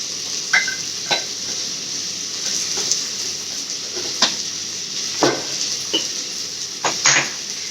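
Sambar vegetables sautéing in a pan as chilli powder is stirred through them, a steady close sizzle broken by sharp scrapes and clinks of a spoon against the pan at irregular intervals.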